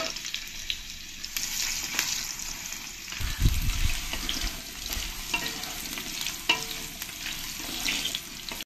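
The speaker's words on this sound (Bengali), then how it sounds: "এই আলুগুলো আমি একটু লাল লাল করে ভালো করে ভেজে নেব।" Cut potatoes fry in hot oil in a kadai with a close, crackling sizzle, broken by scraping stirs and a brief bubbling splash midway.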